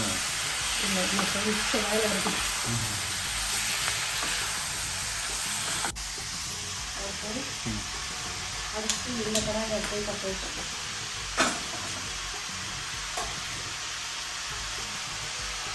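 Food fries in a pan with a steady, broad sizzling hiss that runs throughout, occasional sharper crackles breaking through, while people talk over it.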